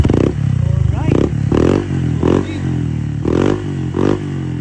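A Honda Click scooter fitted with a KVIN exhaust pipe revs in short, repeated throttle blips, each a loud close rasping burst that rises and falls back to a throbbing idle, about seven bursts in a steady rhythm.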